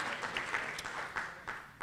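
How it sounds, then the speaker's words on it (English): Faint, brief patter of applause from a small audience at a political meeting, soft scattered claps with a few sharper hits, heard at a distance. "that's a round of applause for you guys, huh?"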